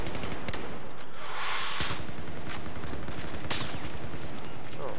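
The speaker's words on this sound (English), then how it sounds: "Dude, they're firing at me as well." Dense gunfire in the video game Battlefield 4 rattles continuously, with sharp loud shots and bursts layered over a constant roar of battle noise, close and intense throughout.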